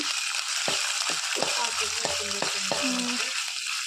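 Grated ginger frying in hot oil or ghee for corn soup, a steady close sizzle with a few light utensil clicks, while a voice talks over it.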